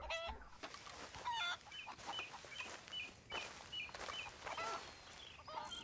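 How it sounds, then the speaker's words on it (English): Chickens cluck in the video game Red Dead Redemption 2, a steady run of short, evenly spaced clucks over a busy ambient game background, moderately near and fairly faint. "Oh, the chickens are here."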